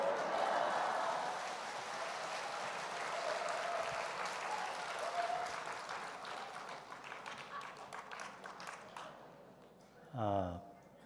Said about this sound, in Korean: 할렐루야로 오른손 들어 크게 박수치며 환영하겠습니다.